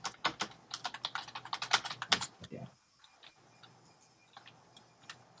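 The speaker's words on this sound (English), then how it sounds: "Somebody's typing and has their microphone on" Rapid clattering keystrokes on a computer keyboard, close and crisp, in a dense burst for about two seconds before thinning to a few scattered taps against quiet room noise.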